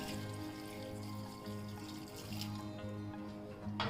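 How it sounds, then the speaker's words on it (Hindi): Water pours steadily into a cooking pot with a continuous splashing trickle, fairly close, alone without any talking; one cup of water added to shami kabab spices. "और इसमें डाल देंगे 1 कप पानी।"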